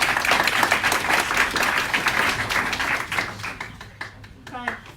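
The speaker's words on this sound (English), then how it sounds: "Big round of applause for" Applause from a crowd at a founders' show-and-tell event as a guest is welcomed, sustained clapping that thins out toward the end, with a voice beginning to speak over the last moments.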